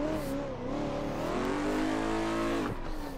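Race car accelerating in a sim racing game, engine revving upward through the gears with rising harmonic whine, loud and close, steady throughout.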